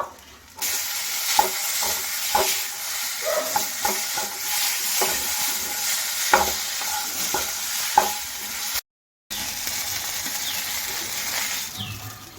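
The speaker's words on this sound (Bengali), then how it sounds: "চিনিটা দিয়ে এবার নাড়াচাড়া করে নেব।" Bharta mash with added sugar is stirred in a pan over a continuous sizzle, with repeated spatula scrapes and knocks and a brief dropout of sound partway through.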